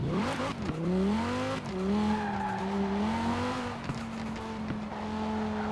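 A Cyberpunk 2077 car drifts in the racing game Forza Horizon 4, its tires squealing in long, wavering howls over a loud, droning engine, sustained for several seconds with brief pitch shifts as the slide changes.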